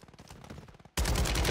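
Automatic rifle fire from an AK-47 in the video game Warzone, a sudden loud sustained burst that breaks in after a short stretch of muffled talk.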